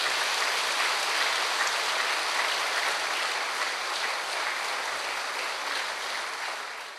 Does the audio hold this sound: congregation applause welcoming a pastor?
yes